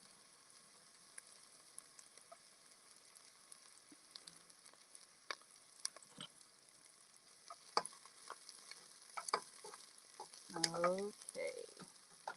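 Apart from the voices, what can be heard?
onions sizzling in a soup pot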